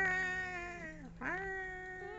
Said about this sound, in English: Hey, little kitty kitty. It's a cat.